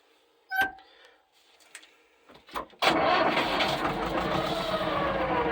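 A 1997 Farm-mot 250D tractor's diesel engine cranks briefly after a few clunks, then catches and settles into a loud, steady close-up idle.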